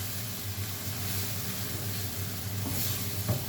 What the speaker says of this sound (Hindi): तीनों चीज़ों को इकट्ठा हम भून लेंगे।